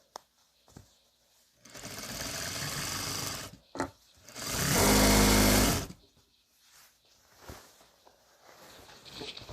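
A long arm quilting machine stitches a baby quilt in two loud, sustained mechanical bursts, the second heavier and humming. Quiet pauses and soft handling knocks fall between the bursts.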